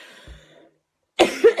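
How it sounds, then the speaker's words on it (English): A person gives a couple of short, close coughs that sound like throat clearing after a brief quiet pause. "I'm going to get another coughing fit"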